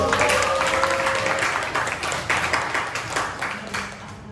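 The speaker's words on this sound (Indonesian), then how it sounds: "Tepuk tangannya dulu." A seminar audience applauds steadily, many hands clapping together in a dense, sustained burst that tapers slightly toward the end.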